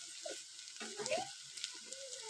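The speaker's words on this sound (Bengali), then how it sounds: "তো মশলা পুরো কমপ্লিট হয়ে গেছে ভাজা" Spice paste (masala) fries in a pan for Bengali rohu fish bhapa, giving a steady close sizzle with stirring scrapes and small spatters, no voices over it.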